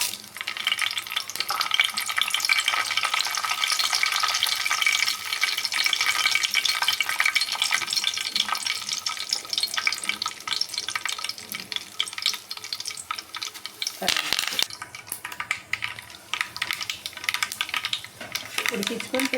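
Cumin, mustard seeds and dried red chillies sizzling in hot oil in a kadai for a tempering, a continuous close crackling hiss with brief clatters of stirring, and one louder burst about two-thirds through.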